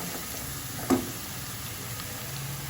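Onion and a split dried chili fry in hot oil, giving a steady soft sizzle close by with one brief louder crackle near the start and no voices.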